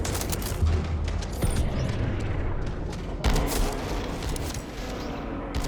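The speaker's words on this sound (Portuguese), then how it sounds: "arma nova que a gente adquiriu agora. Pouco tiro, ela já destrói um inimigo. É como se fosse uma Magnum" A heavy-ammo, Magnum-like handgun firing in the Metal Eden video game, a few loud booming shots with long decays over a dense noisy game background.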